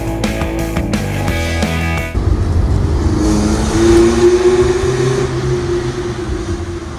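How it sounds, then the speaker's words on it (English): A BMW 318is exhaust snarls at a steady, raspy and barky note with a sustained rising pitch, close and loud, after a short burst of music at the start. "this car's got such a unique exhaust note. It's got a real raspy, barky sound to it"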